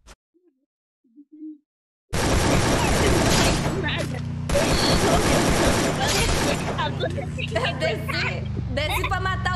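Rapid bursts of gunfire in the Free Fire video game, loud dense volleys with short gaps between them, following a quiet opening with brief faint sounds, with game effects layered in toward the end.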